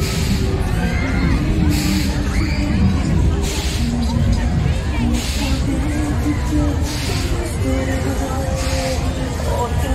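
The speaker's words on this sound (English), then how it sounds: "Crowd building up here." Busy outdoor crowd at an Eid festival in Lewsey Park, Luton, with rides, stage shows and food stalls; constant loud babble of many voices, shouts, and periodic bangs or thumps throughout.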